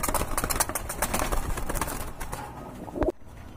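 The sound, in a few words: red checker racer pigeons cooing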